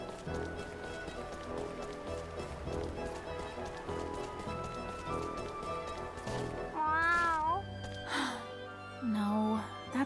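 A cat meowing in the video game Star Ocean IF, a couple of clear drawn-out meows rising over steady game music and background sounds.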